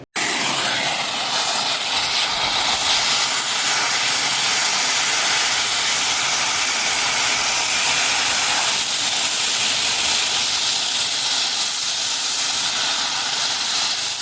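A welding torch builds up a thick weld, giving a loud, continuous roaring hiss that holds steady from start to finish, close up and with no talking.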